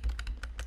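Fingers type on a computer keyboard in a quick burst of about six sharp clicks, close and clear with no talking.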